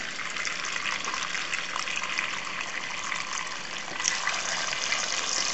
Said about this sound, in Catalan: posem el bacallà en un bol i omplim el bol amb aigua freda